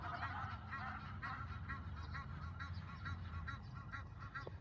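A flock of large ducks honking in a rapid, repeated chorus near a bridge in a park, loud and nearby, overlapping calls with no pause.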